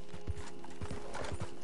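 Horse hooves clip-clopping in the video game Red Dead Redemption 2 Online, a quick steady run of muffled hoofbeats over a faint mechanical hum, no voices.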